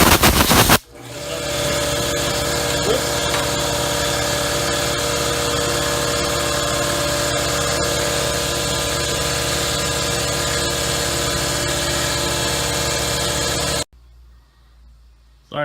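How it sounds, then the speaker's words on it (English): An air compressor kicks on in a workshop during a carburetor overhaul and runs with a loud, steady mechanical rattle and hum for about thirteen seconds before cutting off abruptly. "the air compressor kicked on"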